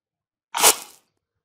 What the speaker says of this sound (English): if Scarfy was not on the ground, then we play sound, what did we call it? We play the landing sound